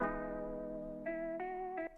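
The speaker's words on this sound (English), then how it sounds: "which gives it some more distortion and more movement." A gritty, slightly distorted synth chord holds and then steps through a few short changing notes, with a subtly moving, wobbling texture.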